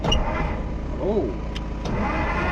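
A 1955 Willys station wagon engine cranking over on the starter, a steady close rhythmic churning whir, with a person talking over it.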